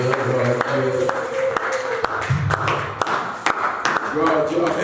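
Congregation at a church service clapping in acclamation, sharp scattered claps in an uneven rhythm beneath singing and talking voices throughout.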